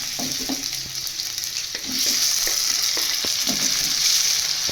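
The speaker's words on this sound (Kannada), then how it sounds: "ಒಂದು ಈರುಳ್ಳಿ ಹಾಕ್ಕೊತಾ ಇದ್ದೀನಿ ಸಣ್ಣಗೆ ಇಟ್ಟಿರೋಂಥ ಈರುಳ್ಳಿ ಇದು ಚೆನ್ನಾಗಿ ಫ್ರೈ ಆಗಬೇಕು" Finely chopped onion sizzles steadily in hot oil after tempering, a continuous frying hiss that grows louder partway through, with occasional stirring taps of a spoon.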